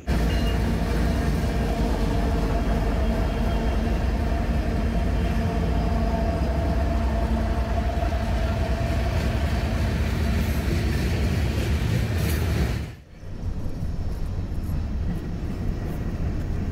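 Norfolk Southern heritage locomotive 1069, The Virginian, leads a freight train passing close by, a loud continuous roar and rumble of engine and rolling cars that cuts out abruptly near the end, leaving a quieter background.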